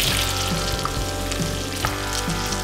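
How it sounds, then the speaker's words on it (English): Onions sautéing in melted butter in a pot for Hawaiian squid luau make a loud, continuous sizzle. Faint regular stirring knocks sit under it, close up and with no talking. "melt the butter in a pot. Add in the onions"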